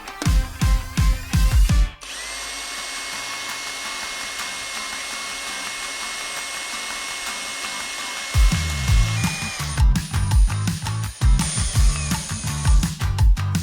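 Power drill with a carbide-tipped bit boring into hard steel, a steady high-pitched whine that holds for several seconds, framed by rattling mechanical clatter before and after, loud and close.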